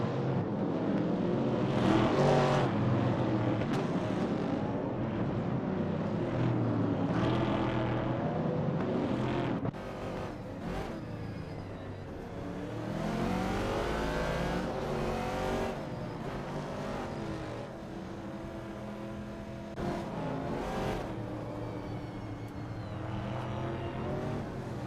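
Vintage TransAm race cars roar through a racing video game, engines revving and shifting continuously with cars sweeping past, loud and unbroken throughout, with no talk.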